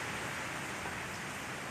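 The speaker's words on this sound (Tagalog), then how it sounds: "Ngayon lang din to sobrang lakas ng ulan." Heavy rain outside during a storm with strong wind, a steady, even hiss of downpour heard faintly from indoors with no break.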